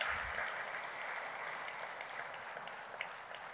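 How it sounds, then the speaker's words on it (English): Applause from an audience at a youth town hall, a steady, fairly quiet patter of many hands clapping throughout. "So a warm round of applause to Tanzania for their fantastic hospitality."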